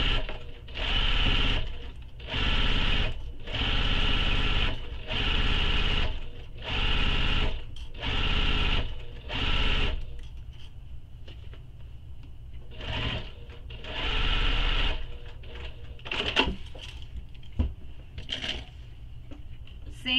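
A sewing machine stitches a seam on an Eira tote bag, running in about eight loud bursts of a few seconds each with short pauses between, then a longer stretch of sewing and a few faint handling clicks near the end.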